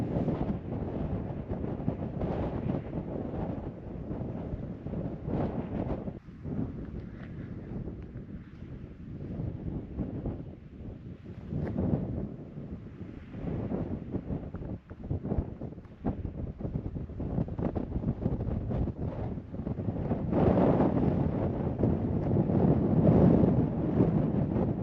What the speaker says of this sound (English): It's really windy up on the ridge